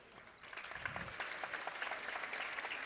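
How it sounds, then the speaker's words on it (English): A gymnasium crowd at a girls' high school basketball game in Maine applauds the game officials, a steady, dense patter of clapping that swells slightly and holds for a few seconds, heard from within the stands. "Thunderous applause for the officials."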